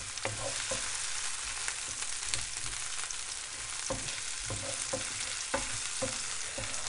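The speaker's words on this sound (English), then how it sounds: "I've chosen red onions today. I'm going to saute those bad boys down." Red onions sauté in a pan with a constant dense sizzle, broken by periodic scraping stirs of a spoon, loud and close with no talking.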